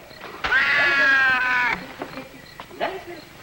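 A cat gives one long, drawn-out meow, loud and close, followed by a couple of shorter, fainter mews, while a man calls to it in between.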